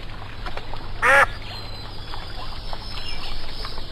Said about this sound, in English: You're just a duck.